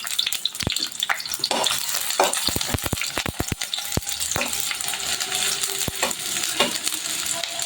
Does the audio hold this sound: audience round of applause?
no